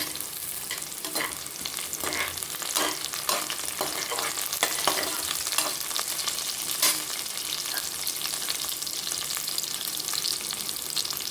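Green chillies sizzle and fry steadily in hot oil with onions for a spiced mutton gravy, a continuous close crackle with stirring scrapes running throughout and no talk.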